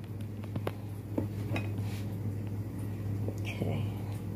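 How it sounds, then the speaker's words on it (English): Guanime dough is mixed in a bowl, with scattered utensil scrapes and clinks against the bowl over a steady low hum, while a person speaks quietly at times. "I have to mix this up and then knead it like a dough."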